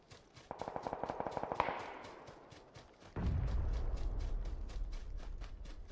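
Automatic gunfire in the battle royale game PUBG rattles off in a rapid burst of evenly spaced shots, then after a short lull a heavy, booming blast rolls in and keeps rumbling.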